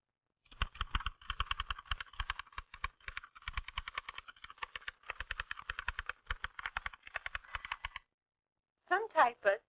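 Rapid clattering keystrokes on a vintage typewriter, a busy irregular rhythm of sharp close clicks for several seconds, then a pause before a short burst of speech.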